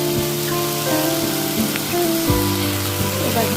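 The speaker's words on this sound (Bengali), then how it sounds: "এবার ভালো করে কষিয়ে নেব।" Catla fish curry frying with turmeric and salt in a pan, a dense continuous sizzle close up, with faint stirring knocks and background tones throughout.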